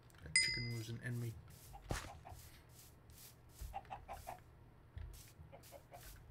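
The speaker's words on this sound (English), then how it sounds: "That chicken was an enemy." Minecraft chicken giving a few short clucks near the start, mixed with other game sound effects, then quieter scattered blips and taps.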